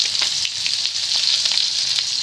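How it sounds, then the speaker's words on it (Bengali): Chopped onion sizzles in hot oil with a dense, even crackle and faint popping, close and continuous throughout, with no voices. "এবার দিয়ে দিচ্ছি পেঁয়াজ কুচি।"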